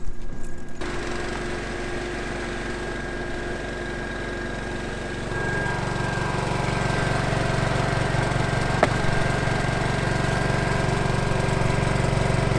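A dual fuel generator runs outside a truck camper, a steady mechanical engine drone with a constant hum, growing slightly louder and fuller partway through, with a brief click near the end.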